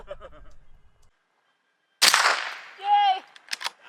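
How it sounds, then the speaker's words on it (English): A single sharp gunshot from an M1 Garand cracks out at a clay target launched at an outdoor off-road camp. A short tonal whoop and chatter follow, with brief talk just before. "Monique, I'm gonna launch a clay. Shoot it, okay?"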